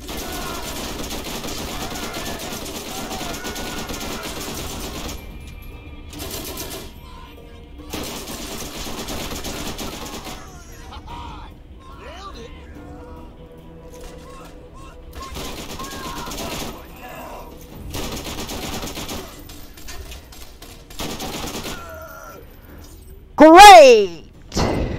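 A Torg SMG in a video game fires in several repeated rapid bursts, each lasting a few seconds with short pauses between them, loud and close, followed by a sharp final blast near the end.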